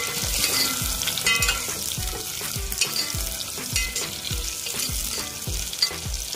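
Onions and green chillies fry in hot oil for a tomato pulao, a dense close sizzle with regular thudding stir strokes of a spoon repeating about twice a second, no talking.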